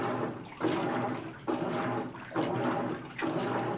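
A GE washing machine on its normal cycle agitates laundry in water, with four rhythmic sloshing surges swelling and easing roughly every second, steady and close, with no voices.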